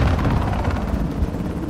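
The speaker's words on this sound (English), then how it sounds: "how come I'm not in the helicopter?" Loud, dense rotor thump of a helicopter in a video game, a rapid pulsing chop layered over heavy low rumble and battle noise, sustained throughout with no talk.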